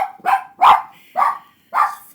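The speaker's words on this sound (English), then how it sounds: "before these dogs continue to bark" A dog barks four times in quick succession, loud and close, each bark short and sharp with brief pauses between them.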